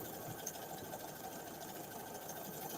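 Sewing machine stitching a row of fabric during a craft session: a continuous, fast mechanical whir with a rapid needle rhythm, steady and moderately close, with no talking over it.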